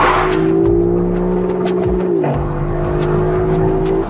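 A Lexus LC's engine revs hard up toward its limiter on a road drive, a loud sustained tone climbing in pitch, briefly dipping as the gear changes, then rising again with a sharp, rasping edge.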